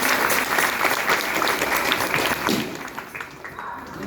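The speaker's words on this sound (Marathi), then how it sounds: "साक्षी दिदीसाठी एकदा जोरदार टाळ्या वाजवा." Audience applause at a gathering honouring a young storyteller in Bhagur, a dense burst of clapping that thins and fades over about four seconds.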